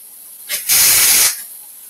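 A welder turned all the way up to full heat while chopping the top of a Ford F1 lets out one loud, close hissing and crackling burst lasting under a second, then falls back to quiet.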